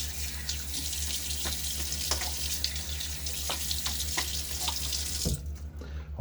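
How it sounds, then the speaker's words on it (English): Cold tap water runs steadily into a sink for a quick rinse after a razor shave, with a low hum beneath and a few splashes before the flow stops near the end. "A little quick rinse."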